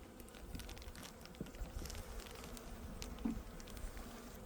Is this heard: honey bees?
yes